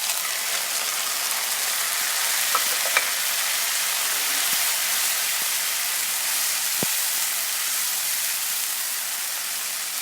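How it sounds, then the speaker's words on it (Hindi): Tomatoes and browned onions frying in a pot for degi-style chicken korma, a dense even sizzle with a few sharp utensil taps, close and continuous without speech. "यहाँ पर हमारे टमाटो और ऑनियन की बुनाई होगी।"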